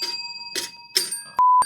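A small bell struck three times in quick succession, bright and ringing, followed by a loud sustained electronic bleep, opening a Magic: the Gathering Commander gameplay show.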